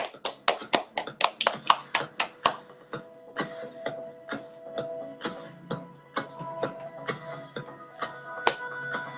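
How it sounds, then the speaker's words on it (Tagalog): A church congregation at a Sunday service claps loudly in unison, sharp regular beats at first, then a steadier rhythmic clapping continues at a moderate distance with no talk over it. "malakas na palakpak para sa ating Panginoon"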